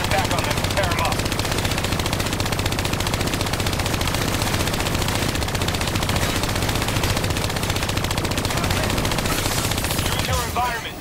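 Hijacked turrets hammer out sustained automatic gunfire in Call of Duty Black Ops III, a dense, continuous rattle of loud shots running for about ten seconds before tapering off.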